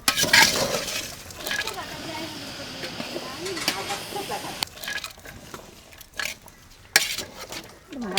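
Spiced tapioca being stirred in a pot, with scraping and clinking of a utensil against the metal and a light hiss of steam, close by, while a person talks over much of it.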